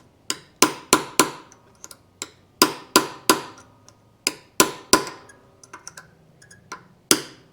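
Quick irregular taps of a hammer on a punch seat a crankshaft seal on a Yamaha Twin Jet 90/100 outboard, close metallic clicks in clusters with short pauses, some lighter, no talk.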